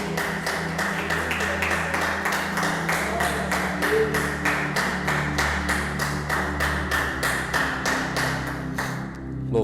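A church congregation claps together in a steady, even rhythm of fast, regular beats that keeps going without a pause, loud and close, with a low sustained tone underneath.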